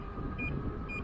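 Short electric-tone warning beeps from a Sherman S electric scooter ridden into the wind on a waterfront path, two quick chirps over constant wind rush.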